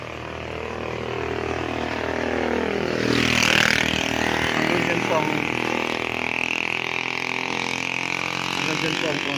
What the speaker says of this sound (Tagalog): So napakaingay ng tunog ng motor.